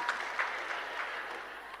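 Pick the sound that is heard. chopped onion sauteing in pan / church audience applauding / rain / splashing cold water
church audience applauding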